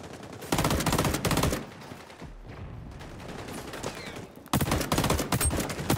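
Rapid automatic gunfire from a video game gun in bursts, a dense rattling volley at the start and another near the end, with a quieter stretch of scattered game effects between.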